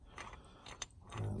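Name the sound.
bottle jack being screwed up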